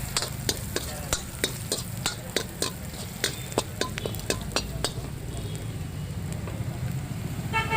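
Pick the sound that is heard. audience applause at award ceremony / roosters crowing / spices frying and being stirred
spices frying and being stirred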